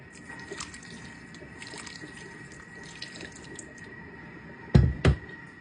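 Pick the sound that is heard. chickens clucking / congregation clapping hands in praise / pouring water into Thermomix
pouring water into Thermomix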